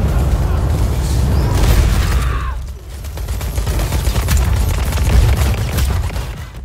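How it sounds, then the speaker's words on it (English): Rocket explosions in the shooter game Borderlands 3, loud rumbling booms and crackling blasts rolling on continuously, with a brief dip in the middle, and players talking over the action. "I'm about to kill myself with my own rocket"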